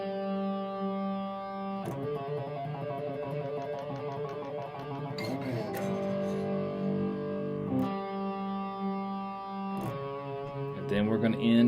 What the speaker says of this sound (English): the guitar pedal I'm using for my distortion and drive sound